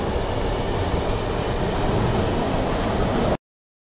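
An MTR train rolling on rails toward Whampoa in Hong Kong makes a loud, steady broadband rumble with constant wheel noise close by, which cuts off abruptly near the end; nobody speaks.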